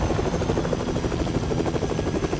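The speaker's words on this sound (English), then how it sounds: "There is one chopper here, which I really hope we do not take it." Helicopter in Fortnite gameplay, a close, continuous rotor thump and engine whine with a fast, even chopping rhythm throughout.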